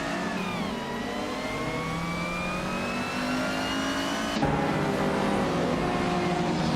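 A 1986 BMW M3 engine in a racing game at Automotordrom Grobnik, a steady, droning rev that rises in pitch, drops sharply at a gear change, then climbs again, close and continuous with no talk.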